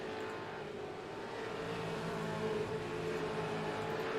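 Race cars with V8 engines roar steadily through a series of esses during a Kumho Tires V8 Veterans round, a continuous distant engine drone without talk.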